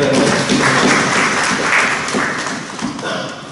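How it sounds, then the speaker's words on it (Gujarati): An audience at a ceremony honouring flood-relief sanitation teams in Valsad claps together, a dense wash of applause that holds steady for a few seconds and then slowly fades. "આપણે બધા તાળી વગાડીએ."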